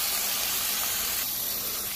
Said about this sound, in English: my fire's on low, it's gonna stay there, and I'm gonna cover it, and it's gonna steam